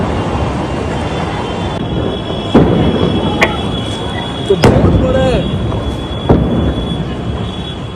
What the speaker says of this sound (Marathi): दहा सिलेंडरचे स्फोट पाठोपाठ झालेले आहे